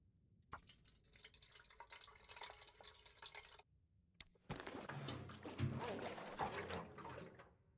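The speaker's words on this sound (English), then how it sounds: "to refuel my Spelunker's lantern" Fuel pours from a jerry can into a Spelunker's lantern in The Long Dark, a faint liquid trickle and glug that stops briefly, then resumes more strongly after a small clunk.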